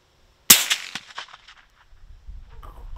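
A single loud, sharp suppressed .357 Magnum gunshot crack in the game Road to Vostok, with a ringing, echoing tail that fades over about a second, followed by low rumbling background noise.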